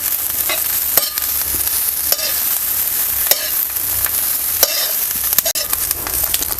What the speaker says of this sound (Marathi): हे बघा असं आपल्याला थोडंसं तेलामध्ये ना चांगलंसं परतून घ्यायचं आणि लसूणसुद्धा परतून घ्यायचं